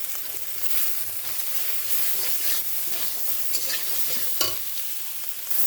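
Chili powder and crushed ginger stirred into a sizzling pan, a steady close frying hiss with soft spatula scrapes and an occasional knock against the pan.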